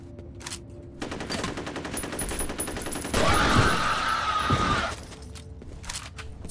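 Rapid automatic gunfire from a first-person shooter firefight, a dense close burst that builds into a louder sustained volley with shattering debris, then cuts off to sparse ambient noise.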